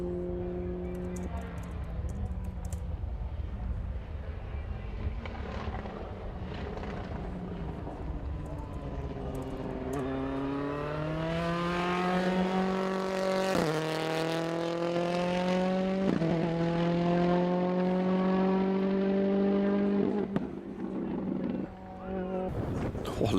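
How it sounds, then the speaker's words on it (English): A 2015 Ford Fiesta ST rallycross car on a race track, its engine note rising and falling through gear changes with sharp exhaust pops and bangs under braking, heard at a distance beneath a commentator's voice. "As you can hear the pops and bangs there as he jumped on the brakes for Cops."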